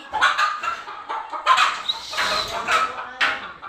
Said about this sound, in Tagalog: mayroong manok nakapasok mga kaibigan. Ang ingay.